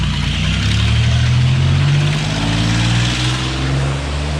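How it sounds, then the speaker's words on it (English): A beat-up scrapping truck revving hard nearby as it attempts a burnout, its loud engine rising and straining in pitch, then easing off slightly toward the end. "he's gonna try and do a burnout."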